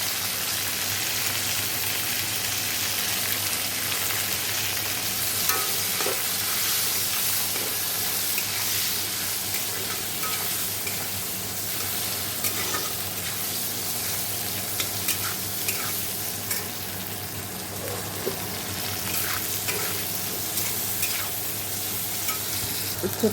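Latha fish with bitter gourd and salt sizzling steadily in a pan as it is stirred, a continuous close frying hiss with scraping stir strokes and no voices.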